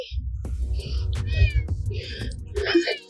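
A cat meows several times in short, rising calls, close by, with a low rumbling background underneath.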